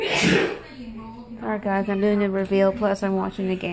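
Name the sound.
sneeze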